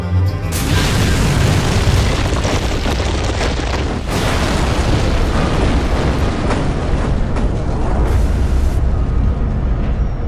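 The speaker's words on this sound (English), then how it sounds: "pressure and heat caused the space rock to fragment and annihilate itself, producing a firestorm" A deep, continuous roaring boom from an asteroid fragment breaking up and exploding in the atmosphere, loud and sustained with rumbling surges throughout.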